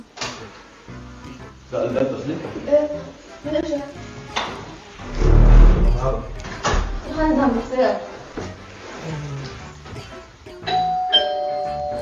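People talk over clattering noise, and near the end a doorbell chime rings out clearly.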